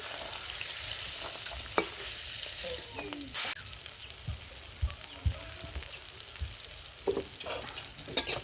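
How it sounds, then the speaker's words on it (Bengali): Bitter gourd sizzling in oil in a pan, with soft steady frying crackle and occasional scrapes and clinks of a spatula stirring, fairly quiet and close. "এই উচ্ছেগুলো ভাজা হয়ে গেছে, তুলে নিচ্ছি।"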